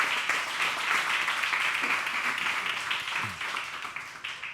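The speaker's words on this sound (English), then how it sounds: "Please join me in giving a big round of applause for Hannu Rajaniemi." An audience applauding a speaker at a talk, a broad sustained wash of clapping that holds steady and then slowly thins toward the end.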